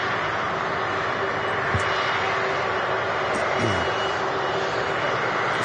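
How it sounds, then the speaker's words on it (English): Virgin Atlantic Airbus A330-300 jet engines at Manchester Airport: a loud, steady broadband roar that stays constant throughout, with a faint whine and light wind buffeting, and no pauses. "Here we go, Virgin Atlantic A330 300."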